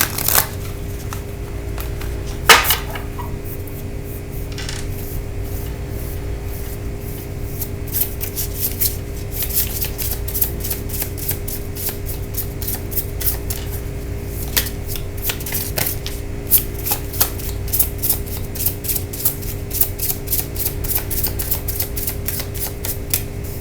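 Starry Beginnings Oracle cards are shuffled close up in a long run of soft, rapid riffling and rubbing, broken by a few sharper slaps and taps, with no voice.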